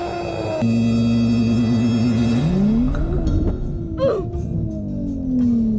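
A 700-horsepower 2023 Nissan Z at the track, its engine roaring loud and close with steady revs, then a sweeping pitch change as it shifts and accelerates, with no talk.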